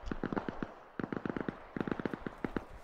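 Distant gunfire in the military shooter game Arma Reforger: bursts of rapid popping shots in several quick clusters, fairly loud and crisp with a slight far-off echo, with no talk.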